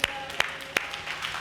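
A church congregation at a Sunday service clapping hands: a few sharp, spaced claps ring out in quick succession, then a softer patter, mixed with some voice.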